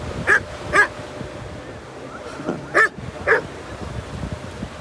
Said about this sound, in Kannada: ಗೈಸ್, ನಾಯಿಗಳು ಬಂದವ.